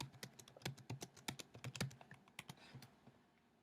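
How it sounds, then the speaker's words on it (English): A command is typed on a computer keyboard, a quick close run of soft clicking keystrokes with brief pauses between bursts. "So we'll type in show IP NAT translations"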